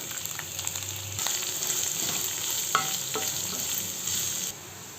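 Finely chopped green chillies and onions fry on a low flame, a soft, continuous sizzle with a few light clinks and stirring scrapes, the sound dropping slightly at the close; nobody speaks.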